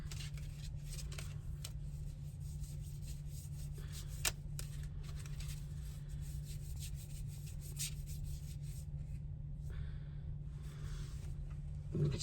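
Soft, continuous riffling and rubbing of tarot cards being shuffled during a reading, steady and close, with a low constant hum underneath and one brief tap partway through.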